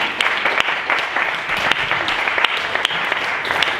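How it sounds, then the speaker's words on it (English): Loud, close audience applause for a comedian at a university stand-up comedy show, dense steady clapping throughout with a few whoops. "Another round of applause for Matt,"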